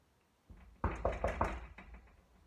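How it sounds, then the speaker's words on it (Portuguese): A few firm knocks on a door, close and resonant, come in a quick run of four or five thuds and then fade. "Rod ouviu uma batida na porta"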